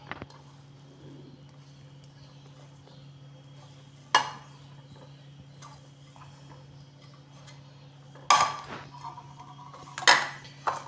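Soya chunks are stirred into a paste in a pan for soya fry, with a few sharp clinks and clatters of a spoon against the pan spaced over a quiet background hum.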